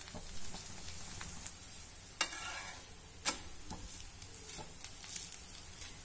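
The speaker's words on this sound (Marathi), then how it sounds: "मध्यम ते मंद गॅसवर हे थालीपीठ दोन्ही बाजूनी पलटून पलटून अगदी खमंग होईपर्यंत" Thalipeeth roasts in oil on a pan over medium-low flame, with a soft continuous sizzle, scraping stirs and a couple of sharp spatula taps as it is flipped; no one speaks.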